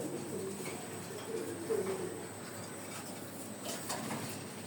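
A pigeon at home gives a few soft, low coos against a steady background hum, with no talking.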